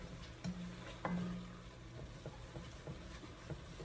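A wooden spoon stirs food in a pot, with soft scraping strokes over a low background sizzle, quiet and close, with no voices.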